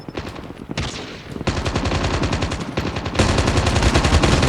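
Rapid automatic gunfire from the mobile game Call of Duty Mobile comes in several bursts, each a dense rattle of shots, loud and close, growing heavier toward the end with no talking.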